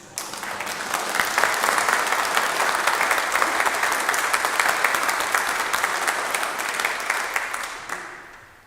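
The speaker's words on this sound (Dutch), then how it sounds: "En we doen er gewoon nog een applaus bij." A church congregation applauds a choir after a Sunday service, loud, dense clapping from many hands that swells quickly, holds steady, then tapers off near the end.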